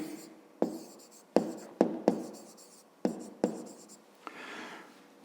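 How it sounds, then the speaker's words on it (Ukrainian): Handwriting on paper during a fifth-grade math exercise: a series of sharp pen taps and short scratchy strokes in an irregular rhythm, close and fairly quiet, with no talk. "Записуємо."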